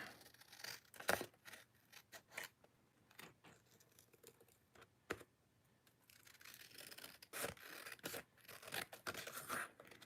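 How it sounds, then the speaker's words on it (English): Quiet, irregular scissor snips and crisp paper noises as paper is trimmed, a few sharp cuts separated by pauses, close up with no talking. "Okay, and then I'm going to take my scissors"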